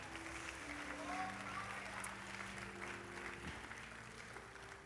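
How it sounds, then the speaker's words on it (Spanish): Church congregation applauding, a soft, even stream of clapping heard faintly behind a low steady hum, with sustained tones underneath. "Dale un aplauso al Señor."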